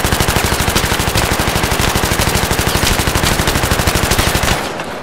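Sustained rapid automatic gunfire in Battlefield 3, a loud, steady stream of evenly spaced shots running for several seconds before cutting off abruptly.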